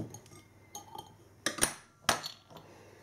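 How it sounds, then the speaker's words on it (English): The cap of an imperial stout beer bottle, aged in whisky casks, is pried off with a couple of sharp metallic clinks and clicks heard close in a quiet room. "There's the bottle cap."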